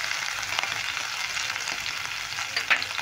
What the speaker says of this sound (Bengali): এবার দিয়ে দেবো কাঁচা লঙ্কা কুচি।